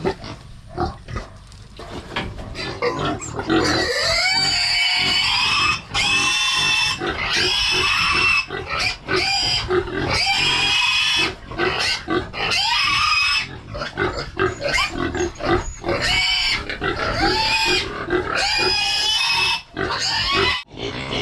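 Pigs raised for lechon, about to be sold from a farm pen, squeal and grunt loudly and almost without pause, several animals overlapping in a close, harsh chorus.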